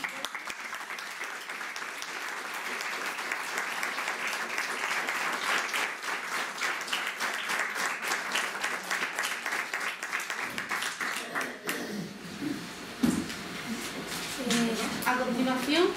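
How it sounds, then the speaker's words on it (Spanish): An audience applauds at a Women's Day commemoration in Cambil in 2017 with a dense, steady round of clapping for about ten seconds. It then thins out, and voices and scattered claps follow. "Un aplauso."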